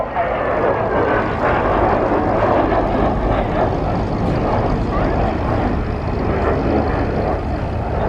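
An Italian Air Force Master training jet flying over an air show, a loud continuous roar close overhead with steady broadband rumble throughout.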